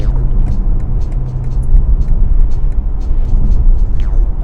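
The engine of a 2004 Audi RS6 rumbles low and loud as the car accelerates, a steady deep drone with road noise heard from inside the car.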